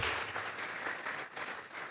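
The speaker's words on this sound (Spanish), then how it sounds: "¿Por qué no le regalamos una ofrenda de palmas al Dios de la gloria?" Church congregation applauding together, a dense, steady wash of many hands clapping at moderate volume throughout, without speech.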